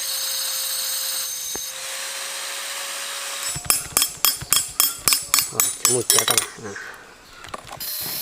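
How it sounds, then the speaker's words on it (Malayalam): Blade cutting into the bottom of a plastic bottle, a close run of sharp rhythmic ticking and scraping strokes that follows a quieter stretch of room tone. "ഇതാ ഈ ഒരു ബ്ലേഡ് വെച്ചിട്ട് കട്ട് ചെയ്ത് നോക്കാൻ പോവാണ് കുപ്പിയുടെ അടിഭാഗമാണ് നമ്മൾ മുറിക്കാൻ നോക്കുന്നത്"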